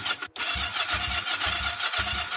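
A motorcycle that sat ten years in a garage, cranked by its starter in a first start attempt: a steady, churning whir with rhythmic pulses that cuts off abruptly without the engine catching, recorded up close outdoors.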